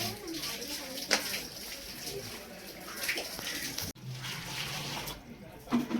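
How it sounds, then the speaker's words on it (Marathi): Water from a hill fort runs and splashes steadily as bottles are filled outdoors, with a few brief knocks and faint background voices. "आम्ही पाणी भरून घेतोय."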